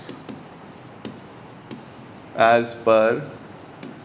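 Writing by hand on a board while working a bank reconciliation statement: short scratchy strokes and taps in an irregular rhythm, close up, with brief bursts of a man's speech over them.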